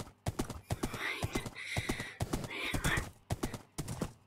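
Horses in the Minecraft video game clip-clop in quick, uneven bursts of hoof clatter, with a neigh mixed in. The hooves are close and clear, with brief pauses between runs of steps.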